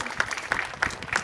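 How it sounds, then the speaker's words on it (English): A small audience at a sea lion show gives a brief round of clapping, light and fairly distant, with a few scattered claps pulsing over about a second. "Give him a little clap for that, though, everyone"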